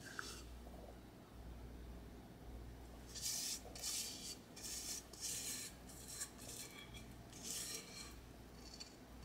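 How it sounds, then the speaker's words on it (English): A spatula scrapes pound cake batter from a mixing bowl in a series of short, faint rasping strokes over a low background hum. "Getting all the batter out of there."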